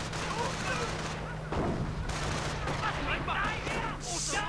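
Anti-tank gun firing in a World War II real-time strategy game, sharp booming shots amid ongoing battle noise, with a steady low hum and a faint voice beneath.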